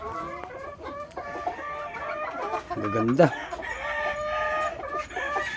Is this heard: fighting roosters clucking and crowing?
yes